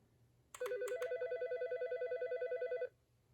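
RadioShack Uniden ET-3577 900MHz analog cordless phone base sounding an electronic ringer tone: a few short chirps, then a rapid warbling trill that holds for about two seconds and cuts off, clear and alone.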